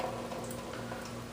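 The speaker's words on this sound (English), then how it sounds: "we gotta let that drain out of it" Water drains out of cooked casserole food, a steady soft trickling and bubbling of liquid, close and continuous for a brief moment.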